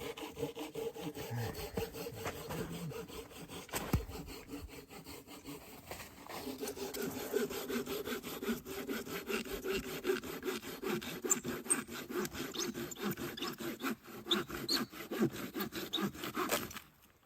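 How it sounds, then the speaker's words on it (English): Firewood is sawn outdoors in stormy weather with steady, rhythmic back-and-forth saw strokes that continue close and clear for the whole stretch, under a constant background hiss and with no talking. "And then I'm cutting some firewood up."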